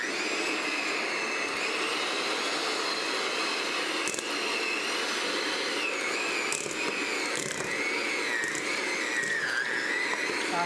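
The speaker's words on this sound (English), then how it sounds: "we're just gonna mix that until it's nice and soft. And they recommend using a hand mixer for this" A hand mixer beats cream cheese for cheesecake, giving a steady, unbroken high-pitched motor whir with faint clattering of the beaters against the bowl, close up and without speech.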